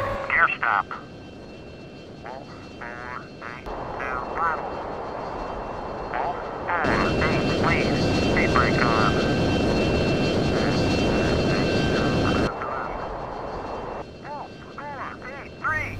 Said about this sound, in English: We're going to pop our gear down once we're below 300 knots, and we'll use our air brake as well to help slow us down.